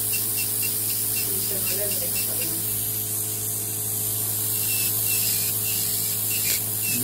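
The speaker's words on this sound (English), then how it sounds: "And then it sprays a little bit of water and alcohol." A new nail care machine used on a 90-year-old patient gives off a steady, close spray hiss of water and alcohol for several seconds over a constant low machine hum.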